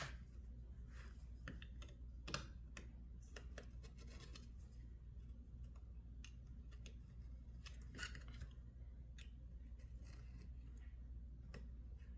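Small slivers of material are trimmed with scissors: a series of crisp, quiet snips at an uneven pace over a low steady background hum, with no voices.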